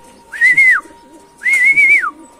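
Two clear, whistling calls from a racing pigeon coming back to its loft after a fun race, each a sustained tone close by, separated by a short pause over faint background noise.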